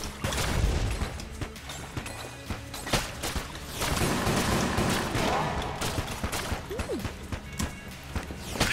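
Rapid bursts of gunfire in the bullet-hell dungeon game Enter the Gungeon, crackling in a dense, uneven stream with sharp impacts, moderately loud and nearly free of talk.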